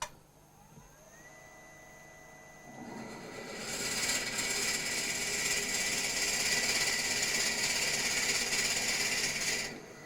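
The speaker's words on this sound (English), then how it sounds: "I'm going to drill a hole with this 1-inch Forstner bit" A 1-inch Forstner bit boring into wood on a lathe running at low speed: a faint motor hum climbs in pitch, then a loud, steady grinding rasp of cutting for several seconds before stopping abruptly.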